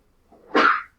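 A single person sneezes in a classroom, a soft intake of breath followed by a short, bright burst of air lasting about half a second, fairly close and alone.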